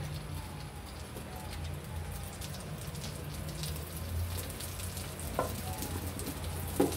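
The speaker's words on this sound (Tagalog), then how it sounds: "Ating pamelt ang butter." Butter melting in a pan with a little cooking oil before mixed vegetables go in, giving a steady close sizzle and crackle throughout with faint background noise.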